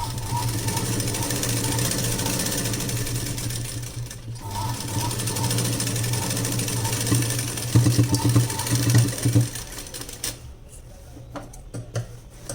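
Electric sewing machine stitching a seam on palazzo pants, running in a steady close buzzing rhythm, briefly pausing, then speeding up before stopping.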